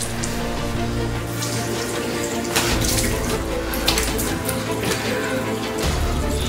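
Dirty, polluted water running steadily from a tap in a staged scene about a world ruined by plastic, a continuous close rushing splash with a brief louder surge midway and no talking.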